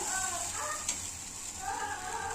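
Ginger-garlic paste hits a pan of softened onion and tomato for a thin fish curry, giving a steady, close sizzling hiss that holds throughout with little change.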